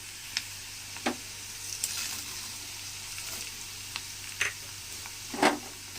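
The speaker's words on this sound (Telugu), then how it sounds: "ఇప్పుడు మనం ఇందులో పోపు సామాను యాడ్ చేసుకుందాం" Tempering spices for a village-style cucumber chutney fry in hot oil, giving a low steady sizzle with several sharp crackles and pops scattered through, near and alone without talk.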